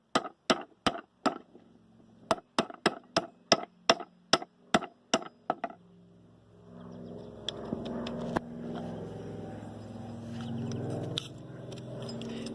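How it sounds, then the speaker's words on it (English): A hammer taps the pick-up teeth of a New Holland Super 68 baler into place: about a dozen sharp, close metallic knocks in quick spaced bursts, then a steady broadband rumble of handling noise. "it works a lot better to use a hammer to tap these back in than it does to try to twist them back in"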